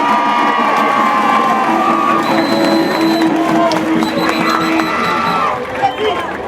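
A large crowd at a live event in Guadeloupe cheers and shouts loudly and steadily, with children's voices and whoops rising through a dense wall of sound, plus scattered clapping, close and continuous throughout.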